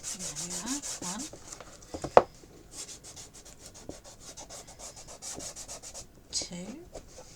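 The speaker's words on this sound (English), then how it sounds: "So then you can just go along and just burnish this tape down." Tape is rubbed and burnished down on a cardboard craft box with a tool, giving steady close-up scraping strokes in a rhythmic back-and-forth pattern and a brief sharp tap partway through, no speech.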